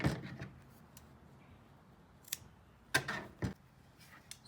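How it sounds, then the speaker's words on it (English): Scissors snip through face-mask elastic in a few short, crisp cuts at the start and again near the three-second mark, close and quiet with no talking. "she's going to cut her elastic at 9 inches"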